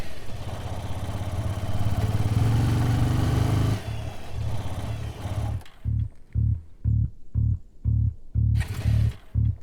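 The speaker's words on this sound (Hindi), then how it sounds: "पेट्रोल तो है, फिर भी बाइक बंद हो गई।" A motorcycle engine runs roughly for several seconds, then cuts out and is followed by a series of short, regular bursts as it fails to start, each one close and loud.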